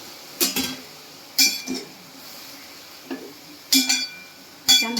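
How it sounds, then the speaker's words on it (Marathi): A spatula stirs chopped dill greens in a pan, giving a few sparse metallic clinks and scrapes spaced a second or so apart over a faint background, with no voices. "छान हलवून घ्यायची आहे"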